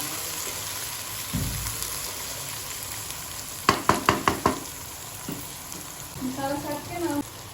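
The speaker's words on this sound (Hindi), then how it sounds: "टमाटरों को अच्छी तरह से इसमें मिक्स करेंगे हम।" Tomatoes are stirred into onion and ginger-garlic paste frying in a pan. A soft sizzle runs underneath, and a quick burst of sharp scraping knocks comes midway. A brief voice is heard near the end.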